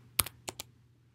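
Numbers typed on a computer keyboard, four quick close key taps in an uneven cluster, soft and clicky in a quiet room.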